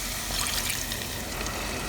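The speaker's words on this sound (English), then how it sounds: "And I'm going to add tamarind water" Tamarind water pours steadily into a cooking pan over onions while making besan pitla, a continuous close liquid splash and trickle with no talk.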